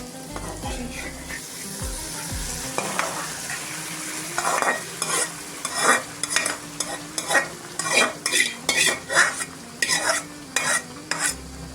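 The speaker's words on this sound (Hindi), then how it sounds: "ये दाल ऐड कर देंगे।" Masoor dal tipped into a hot pan for an egg-and-lentil dish and stirred: a soft sizzle opens, then a spoon scrapes the pan in regular, closely spaced strokes that grow louder and more rhythmic toward the end.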